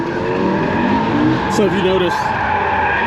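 A drift car with heavy front camber slides sideways at a Vietnam drift club, its tires squealing in a sharp wavering screech under engine noise while someone talks over it nearby.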